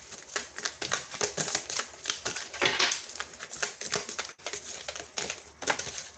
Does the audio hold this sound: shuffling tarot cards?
yes